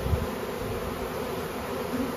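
A swarm of honeybees buzzing in a dense, continuous drone during a spring swarm catch, steady and close with no voices.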